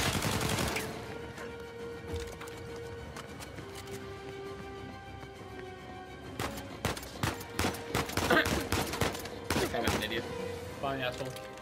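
Rapid bursts of gunfire from the Uncharted 4 video game crackle repeatedly through the stretch, with steady game background and music underneath and a voice talking over the action.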